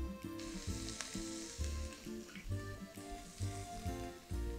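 Steady sizzling and frying of potato cubes in a pot, with faint stirring and clinks, continuous and close, no talking.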